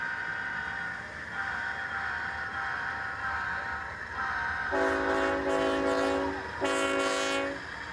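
An HO scale model BNSF locomotive consist rumbles past with a steady mechanical drone, then sounds two loud, sustained horn blasts in quick succession, close by.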